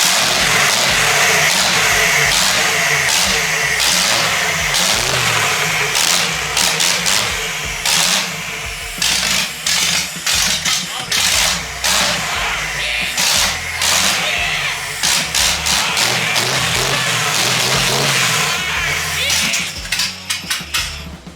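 A V8-swapped Mazda Miata runs very loud and close, with choppy bursts of revving that cut in and out and rough, uneven pulses between them.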